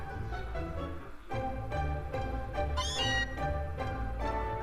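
Meowth's cry in Pokémon Let's Go, a short electronic cat-like meow rising over steady game music, with no talking.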